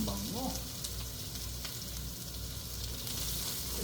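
Onions frying in a pan as the base for stir-fried wild mushroom egg noodles, a dense, close sizzle holding steady throughout with a few faint clinks, and a short vocal sound near the start.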